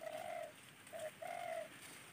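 Out in a farm field, a spotted dove (tekukur) gives three faint, hollow coos, a long note, a short one and another long one, heard from a distance over a quiet hiss with no talking.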